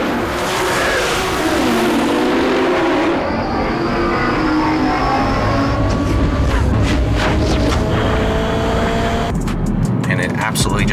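A Lexus GS350 in sport mode accelerates hard through a run of corners, its engine a loud, continuous drone with rising and falling tones and faint tyre noise.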